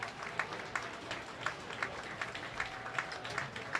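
A crowd applauds youth bowlers at the start of a boys' singles squad at a world youth bowling championship. The clapping is steady and moderately distant, with soft rhythmic peaks that recur about every half second.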